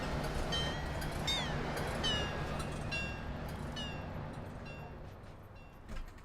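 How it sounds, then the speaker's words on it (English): Squealing brakes on a train in Train Sim World 2, high screeching tones sliding and repeating over a steady rumble as the train slows to a stop, loud and close with no talk. "I don't know why the brake's so noisy."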